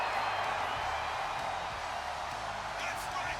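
A video game arena crowd roars and cheers steadily as Brock Lesnar makes his entrance in WWE 2K24, a constant wash of distant crowd noise with faint voices mixed in.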